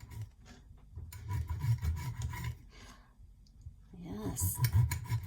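A knife saws through a peanut butter and dill pickle sandwich with a few short, close rasping strokes, separated by quiet pauses, and a scrape toward the end.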